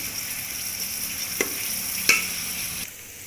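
Onions browning in a hot pan give a steady, close sizzle with a couple of sharp stirring knocks, and no voices.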